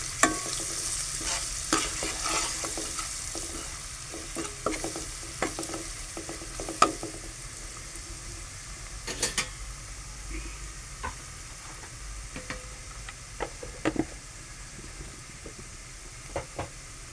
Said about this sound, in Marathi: हळद टाकतो थोडीशी थोडासा मसाला टाकतो आणि ढवळून घेतो